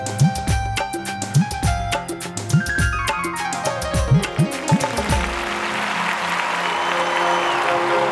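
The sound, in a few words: audience applause for TV show guests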